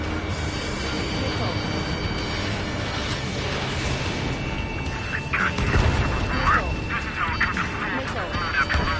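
Jet aircraft roar through an Ace Combat 7 campaign mission, a continuous loud engine rush with swelling passes and scattered bursts, under radio chatter.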